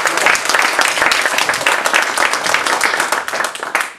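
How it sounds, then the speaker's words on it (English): Steady crowd applause for Dorothy at a presentation on the history of Dollar Bank, with many hands clapping densely and evenly, loud and close, holding throughout without a break. "Quite a round of applause for Dorothy."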